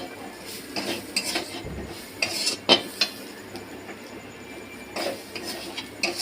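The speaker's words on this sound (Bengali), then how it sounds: "এবার এটাকে আমি ভালো করে মিশিয়ে নেবো" A spoon stirs a spice-mixed potato filling in a bowl, giving scattered light clinks and scrapes against the dish over a quiet kitchen background.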